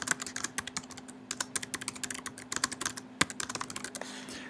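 Rapid typing on a computer keyboard, clattering keystrokes in quick irregular bursts with brief pauses, close and fairly quiet with a faint steady hum behind it.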